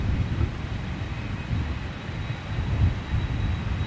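A WestJet airliner nicknamed a smoker passes at London Gatwick airport as a steady, fairly distant low jet rumble with a faint high whine, heard alone.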